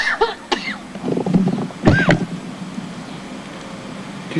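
A few short, harsh coughs in quick succession, fairly close, over low background noise with no talking.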